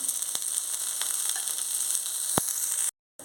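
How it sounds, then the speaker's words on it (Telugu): Tempering spices fry in hot oil with a loud, steady close-up sizzle and a few sharp crackles, cutting off abruptly just before the end. "ఈ ఆయిల్లోని పోపు దినుసులు"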